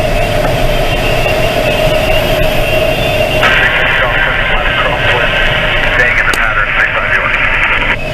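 Aviation radio transmission crackling through a glider cockpit during a flight behind a tow plane, a steady, filtered, hissy broadcast that runs the whole time over constant loud airflow and cockpit noise.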